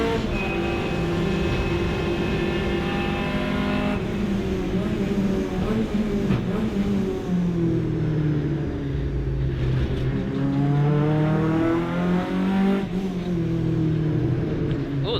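A 750 Motor Club hot hatch race car at Silverstone, its engine droning loudly from inside the cabin and rising and falling in pitch as it slides through corners, with downshifts and revving throughout and a voice talking at times.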